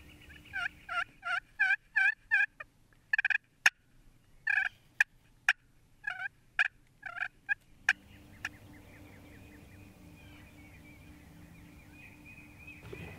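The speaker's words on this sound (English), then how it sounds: "he's gobbling and strutting the whole way" A wild turkey gobbles repeatedly in quick bursts, loud and close, with sharp snaps between calls, then fading into quiet outdoor ambience.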